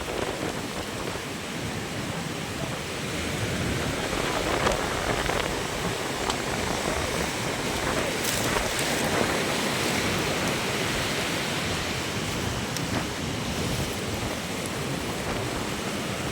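Heavy storm rain pours steadily and loudly as floodwater rushes into a hut during a washout, forming a dense, continuous roar throughout with faint scattered knocks and no voices.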